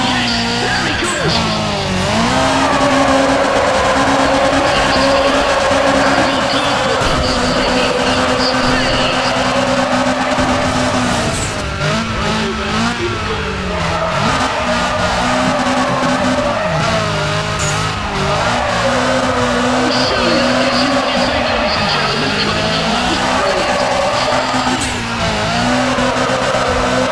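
A drifting car at the Tokyo docks, engine roaring continuously with tires screeching and skidding through long slides, loud and close, with a crowd cheering and people talking over it.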